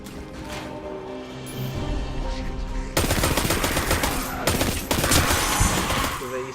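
Rapid automatic gunfire from a weapon in the sci-fi shooter Destiny 2 rattles against enemies, starting lighter then bursting into loud, dense sustained volleys with brief gaps, alongside game effects.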